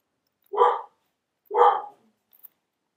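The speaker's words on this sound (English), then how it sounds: "That is the bark, meaning that there is a cat that's going in through our yard." A collie barks twice in a yard, two loud, close single woofs about a second apart, followed by a faint short yip.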